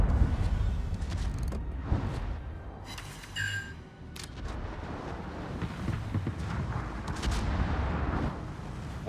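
A tier 10 American battleship's big guns fire in World of Warships, booming over a steady roar of wind and sea, with a few sharper blasts and metallic effects along the way.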